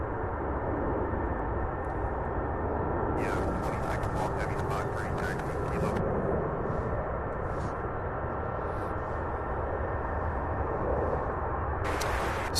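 Airbus A306 and MD-11 freighter jets at Louisville's UPS Worldport, a steady broad engine roar rumbling throughout with brief hissy bursts layered on top, moderately near and continuous.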